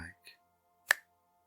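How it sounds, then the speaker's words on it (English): A single sharp finger snap rings out close and crisp after a few soft spoken syllables, followed by a faint lingering hum. "I just snap my fingers, just like"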